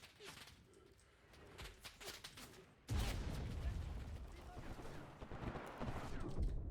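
Intense gunfire in the World War II shooter Enlisted, an aircraft strafing the ground: scattered shots first, then a sudden loud burst of sustained rapid fire and blasts, with brief voices nearby.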